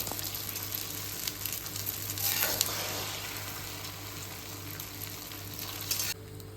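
Egg fried rice frying and being stirred in hot oil in a restaurant-style cooking setup: a steady, close sizzle with scraping stir strokes that swell in the middle, then the sizzle drops away abruptly near the end.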